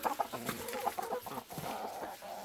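A flock of backyard chickens clucks busily close by, overlapping short calls coming in quick irregular bursts that continue throughout without pause.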